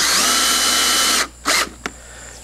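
A power drill drives a screw into a polypropylene U-bracket, whirring loud and steady for over a second and then stopping, followed by two brief bursts.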